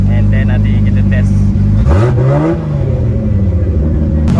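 Car drifting on a wet track at a former mine site, engine loudly revving with sharp rising and falling pitch sweeps, close and powerful, a voice speaking briefly beneath it.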